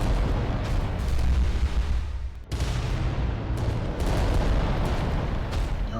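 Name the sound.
volcano cannon hit exploding in Adeptus Titanicus: Dominus video game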